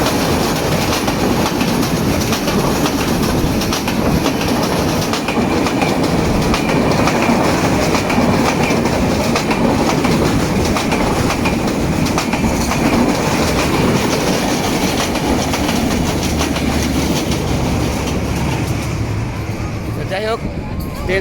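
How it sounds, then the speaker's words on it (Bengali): A fast train crosses the Holhalia bridge at Akkelpur, close by and loud, with a continuous heavy rumble and rhythmic wheel clatter filling the whole stretch and a faint squeal near the end. "দ্রুত গতিতে ট্রেন আসছে।"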